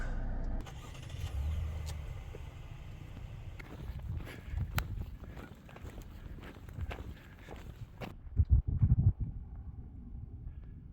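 A car engine starting outdoors at a desert site, the starter and engine turning over amid footsteps and car door handling, then a brief loud rumble near the end, fairly close.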